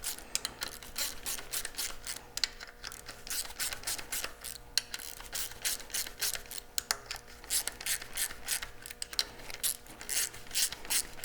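Close ratchet wrench tightening bolts on a Toyota 4.7 engine, rapid bursts of sharp metallic clicking repeated in quick strokes throughout.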